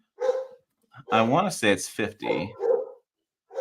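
A dog barks in short bursts in the background of a conversation about a 2023 Toyota Tacoma double cab Limited, with the barks mixed in among a man's close speech.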